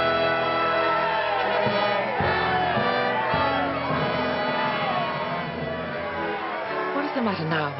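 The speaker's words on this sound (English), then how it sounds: "The crowd calls blessings on your head" A large crowd cheers and shouts for the king in a 1996 period drama, a dense continuous roar of voices with whoops, swelling and dipping over several seconds.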